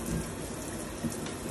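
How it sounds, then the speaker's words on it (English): A hand sprayer sends a steady, soft hiss of water over broccoli, a continuous gushing wash without breaks or voices. "when you just spray with water, you see how the water just sprays right off of it"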